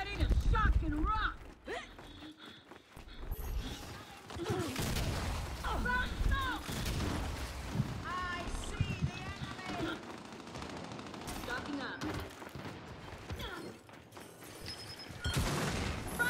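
Rapid automatic gunfire in the video game Gears of War, bursts of shots crackling over a dense, noisy battle mix while players talk excitedly throughout.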